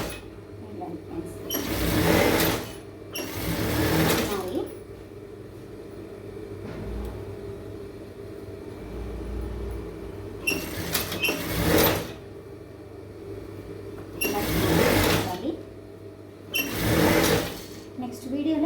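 A sewing machine stitches a blouse lining in about five loud, whirring runs of a few seconds each, separated by pauses in which someone speaks.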